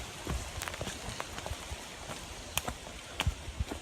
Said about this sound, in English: Woo, it's raining now.